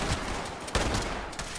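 A rocket launcher firing in Fallout 76 gives several sharp, loud broadband blasts, roughly three bursts spaced about half a second apart over dense combat noise, with no talk.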